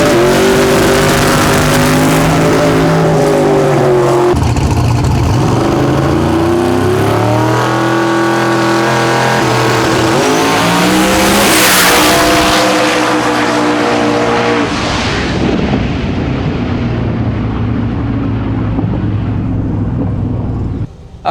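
A drag racing wagon roars down the strip at full throttle, its loud engine note climbing steadily through the gears with brief shifts, then fading as the car pulls away over about twenty seconds.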